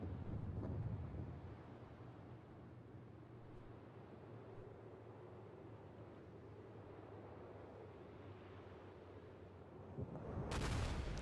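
Warship naval gunfire in World of Warships with a Des Moines cruiser, heard as a steady low rumbling battle ambience and a heavy boom burst near the start and again near the end.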